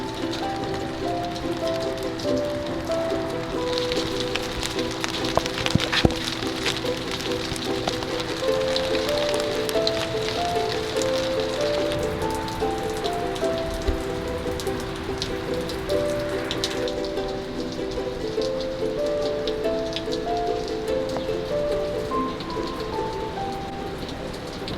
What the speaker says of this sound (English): It rained, tremendous amount of rain too, guys.